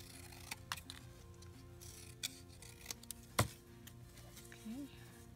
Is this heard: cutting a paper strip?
yes